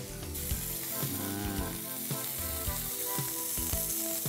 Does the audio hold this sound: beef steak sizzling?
yes